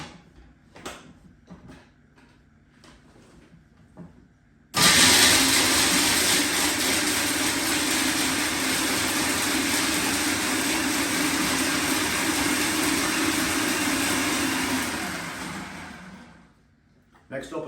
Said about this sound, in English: And then, just going to give that a quick blend.